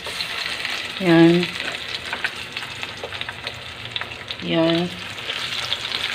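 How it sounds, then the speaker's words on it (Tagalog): Fish goes into a hot pan of oil and sizzles with a steady, loud crackle throughout. A voice briefly calls out twice over the frying. "Tapos meron na tayo ditong mainit na kawali. Isalang na natin yung isda."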